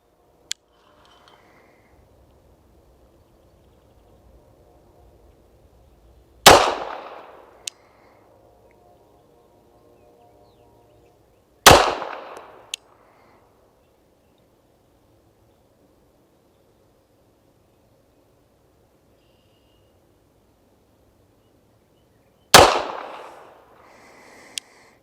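Three loud, sharp pistol shots from an EAA Girsan MC14 BDA at a shooting range, spaced several seconds apart with long quiet gaps, each crack followed by a short decaying echo.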